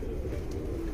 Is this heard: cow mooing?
no